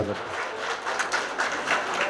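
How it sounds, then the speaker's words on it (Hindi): An audience claps at a mushaira poetry gathering in a marriage hall in Mumbra, a steady ripple of many hands at moderate volume with a few sharper claps standing out near the end. "एक मर्तबा जोरदार तालियां बजाकर आप उन्हें इजाजत"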